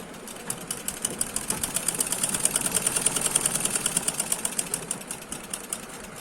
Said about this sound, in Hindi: अगर हमारी सिलाई टूटती है तो हम इसी के ऊपर फिर मशीन चलाएंगे।